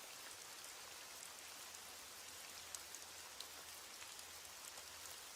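Steady rain falls as a soft, even hiss of drops on surfaces, faint and constant with a few louder drips and no voices.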